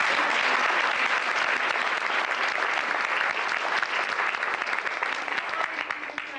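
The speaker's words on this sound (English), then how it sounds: "So if we could just give them a round of applause" Sustained audience applause for veterans and Medal of Honor recipients at a Nisei Week festival, a dense, loud wash of many hands clapping steadily for several seconds and tapering slightly at the end.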